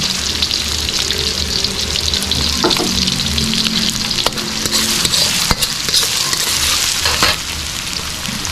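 Onion and garlic fry loudly in a pan for a squid dish, a dense continuous sizzle with occasional sharp taps and scrapes of a spoon stirring, close up with no talking.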